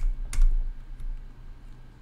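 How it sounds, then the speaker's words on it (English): A few soft clicks of computer keyboard arrow keys pressed one at a time, close and quiet over a low background hum. "I'm using now the arrow keys"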